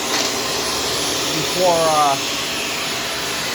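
A Shark Stratos vacuum cleaner runs in a laundry room, its steady, loud motor whine droning continuously while a person talks over it.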